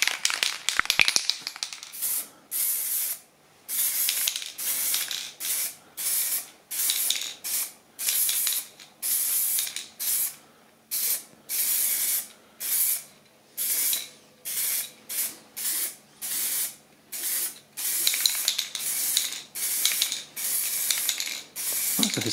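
Another coat of spray paint going onto a 2004 Toyota Avensis sun visor during restoration: a long run of short hissing aerosol bursts, each a second or so, steady and close, with no talk.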